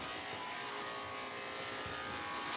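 Electric dog clippers buzz continuously at close range during grooming, a steady even whine with no talk.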